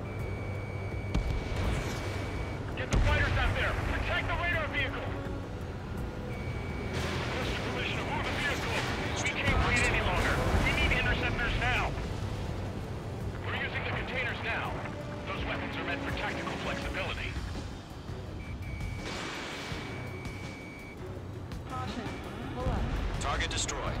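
Anti-aircraft gunfire and explosions in the Ace Combat 7 video game, with repeated bursts and heavy booms over a constant jet-engine roar, alongside radio chatter and warning beeps.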